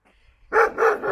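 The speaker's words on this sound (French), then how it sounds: "mais ils sont un petit peu aboyants." A dog in a rural Portuguese village barks twice in quick succession, loud and close, after a brief near-silent pause.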